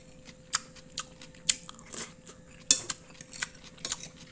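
Raw ginger being bitten and chewed up close, a series of sharp, crisp crunches spaced irregularly, with faint clicks between them.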